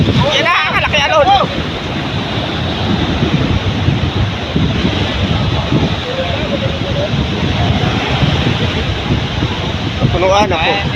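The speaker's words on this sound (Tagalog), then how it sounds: "Yan na, malaki alon." Big sea waves surge and crash around a small fishing boat, with heavy wind noise battering the microphone throughout and brief shouting voices near the start and end.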